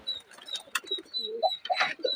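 Domestic pigeons in a loft being let out into the sun, giving several soft, close coos and throaty burbles in short bursts, with a few faint high chirps and flutters between them.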